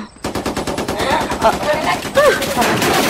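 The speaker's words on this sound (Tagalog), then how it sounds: "Nagpaputukan ni Commander." Rapid automatic gunfire in a shootout between a commander's side and soldiers, loud and close, with bursts of shots and shouting voices over them.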